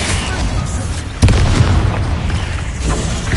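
Spell explosions from Confringo and Bombarda in the video game Hogwarts Legacy: a sudden loud boom at about a second in, followed by a rumbling decay over sustained game background noise.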